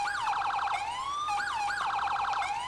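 A Federal Signal police siren from a video game wails loud and steady, sweeping up and down in fast repeating cycles with a short pause between bursts.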